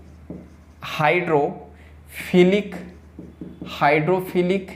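A marker or chalk scratches across a board during a biology lecture, faint, brief strokes heard beneath a male teacher's continuous talking.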